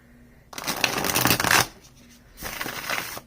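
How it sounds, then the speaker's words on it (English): A soft-feeling tarot deck is riffled and shuffled close up in two quick bursts of papery card flutter, each about a second long, separated by a brief pause. "I love the experience of shuffling this deck."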